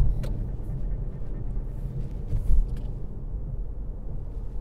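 A 2018 Toyota C-HR coasting on a highway with the foot off the pedals gives a steady low road rumble and tyre drone. A brief swell of louder noise passes midway.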